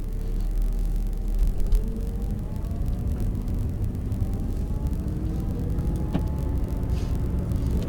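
An Audi R8 V10 in manual gear pulls away at a racing venue with a steady, close engine rumble and whir that builds gently across the stretch, with no talking.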